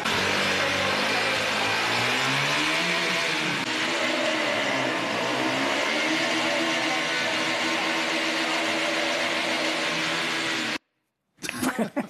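Pulsar 200 motorcycle engine on a simulator revving loudly and continuously with rising and falling pitch, then cutting out abruptly near the end before a brief burst returns.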